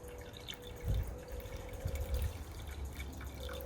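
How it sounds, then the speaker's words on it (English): Water is poured off fine black sediment during gold refining from computer scrap, a soft trickling and dripping heard close by with no talk. "So I'll pour the water off."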